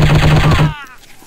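Rapid automatic gunfire from the shooting video game Striker Chapter 2 rattles loud and close in a fast burst, then stops abruptly with a short echoing tail.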